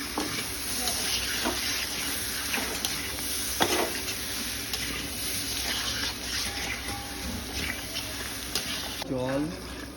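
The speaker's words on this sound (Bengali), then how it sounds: "এবার কষিয়ে নেব" Potatoes for potato curry fry and get stirred in a pan after turmeric and salt are added, a steady sizzle with scraping spatula strokes, and a voice talks faintly near the end.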